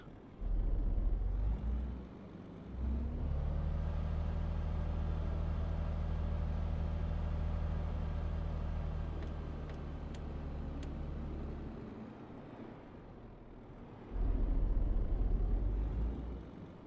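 Renault Magnum truck in Euro Truck Simulator 2 pulling away, a steady low diesel drone that holds through the drive, dips as it eases off, then surges again at the end.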